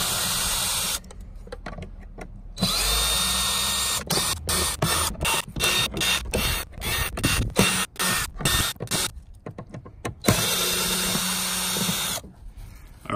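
A small power driver backs screws out of the plates on a DJ controller in quick stop-start bursts of whirring, close and fairly loud, with short breaks between screws and a few longer runs.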